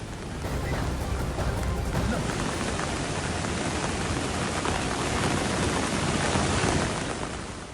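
Heavy rain pours steadily during flooding in Gujarat, a dense, even roar of downpour at constant loudness throughout with no voices.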